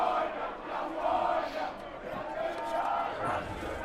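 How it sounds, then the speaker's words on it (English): A stadium crowd at a Cal Bears lacrosse game against Chapman at Memorial Stadium sings the Cal drinking song, a distant swell of many voices rising and falling in a chant-like tune through the fourth quarter. "It's like the crowd's now singing the Cal drinking song to bring us through the 4th quarter here."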